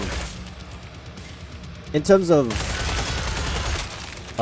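Gunfire in the Killing Floor 3 sewers: a steady volley of rapid shots under someone talking, broken by a short tonal alert, then a dense burst of fire.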